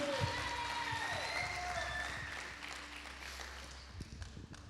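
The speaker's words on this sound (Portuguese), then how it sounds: "Aplauda a vida do Gá, cara" Applause from a church congregation during a worship service, a soft, diffuse wash of clapping heard at a distance beneath a sustained music tone, gradually easing off.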